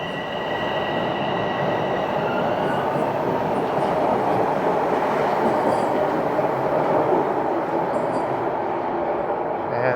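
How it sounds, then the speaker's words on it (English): A Toronto subway train on Line 1 runs through Queen's Park station downtown, a loud steady rumble and rolling rail noise with faint high squeals, heard alone throughout. "And that train will be heading down to St. Patrick's Station."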